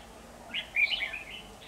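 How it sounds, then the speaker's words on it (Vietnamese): A red-whiskered bulbul sings from a bush, giving a short burst of bright, warbling chirps partway through. The bird is moderately close and clear over a quiet background, and no one speaks. "Đến con dưới bụi nó vẫn hót mà"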